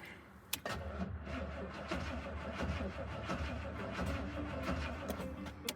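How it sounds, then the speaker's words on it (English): A Rolls-Royce Silver Shadow, needing a new battery, cranks in a steady rhythm at close range, the starter churning for several seconds with a sharp click near the start. "I haven't started the car today. You think it'll start?"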